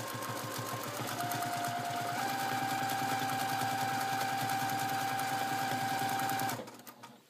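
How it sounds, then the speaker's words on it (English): A sewing machine stitches a small free-motion quilted circle, running at a fast, steady mechanical chatter for about six seconds before winding down and stopping. "I'm going to quilt a small circle,"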